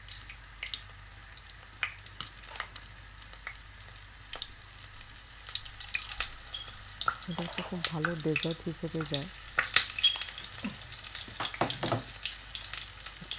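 Urad dal dumplings fry in hot oil in a wok, giving a steady close sizzle with louder crackling bursts midway, while someone talks over the cooking.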